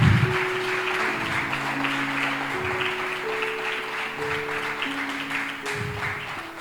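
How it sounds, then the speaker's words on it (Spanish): A church congregation applauds the mothers during a Sunday service, a continuous wash of clapping beneath sustained organ or keyboard chords that play throughout. "denle un aplauso a las madres ahí"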